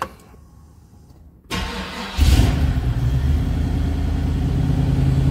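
A 1934 Dodge Cabriolet engine cranks briefly and then fires, settling into a loud, steady idle close by with no talking.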